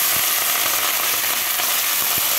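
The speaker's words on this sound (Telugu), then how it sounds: "నూనె వేడెక్కింది. ఉల్లిగడ్డ, పచ్చిమిర్చి," Chopped onions and green chilies sizzling in hot oil as they go into a pan for a broad bean curry, a loud, steady hiss of frying with small crackles and pops throughout.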